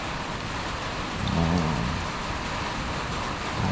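A steady soft hiss of light rain fills the air, with a faint low rumble passing briefly in the middle.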